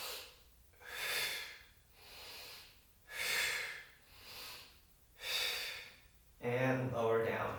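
Slow, deliberate breaths during a core workout: three long airy inhales and exhales swell and fade in an even rhythm, close and soft, followed by a brief spoken voice.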